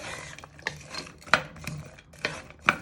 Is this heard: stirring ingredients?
yes